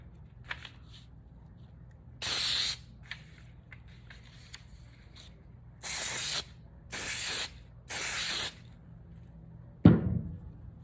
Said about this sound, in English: Then I get a nice spray of glue, try to get it straight down.